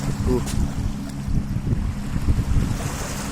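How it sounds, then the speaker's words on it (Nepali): A boat speeding across the reservoir water at Chatara Dham, with a steady low rumble of engine and churning waves, wind buffeting the microphone throughout. "ल हेर्नुहोस् यो पानी जहाज।"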